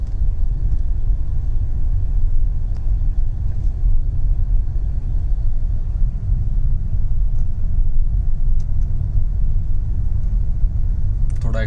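A Kia Seltos HTX with an IVT automatic gearbox pulls away in drive, giving a steady low engine and road rumble that stays close and even throughout with no clear rise.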